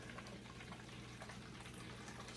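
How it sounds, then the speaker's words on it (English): Infused liquid for a hot toddy is strained and poured off in a continuous, low, even trickle that stays steady and faint throughout. "strain that, just pour that off"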